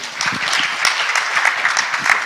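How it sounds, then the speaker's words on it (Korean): Steady applause from a conference audience welcoming a presenter, many hands clapping continuously with a bright crackling texture. "큰 박수로 모시겠습니다."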